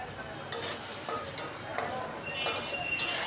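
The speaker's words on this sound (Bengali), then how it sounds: "এগুলো আমি একটু নাড়াচাড়া করে তেলে ভেজে নেব।" Small pieces of salted hilsa fish fry in hot oil while being stirred, with a low hiss broken by several sharp scraping and clinking bursts from the utensil against the pan.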